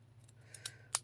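Scissors snipping wood and lace craft material, a few quiet short snips ending in one sharper cut, close and faint over a low steady hum, no talking.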